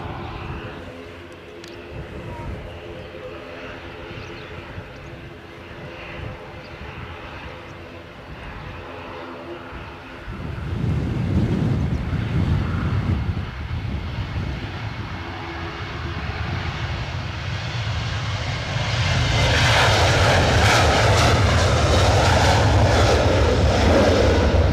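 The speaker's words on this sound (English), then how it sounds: "I can hear an ATR somewhere" ATR turboprop airliner engines at Edinburgh airport, a broad droning roar that swells midway and grows loudest toward the end, heard at a distance in hazy conditions.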